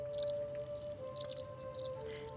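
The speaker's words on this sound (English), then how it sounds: "we would not be able to survive without crickets" Crickets chirp in short, sharp bursts of rapid trills, spaced about a second apart, close and crisp over a quiet background hum.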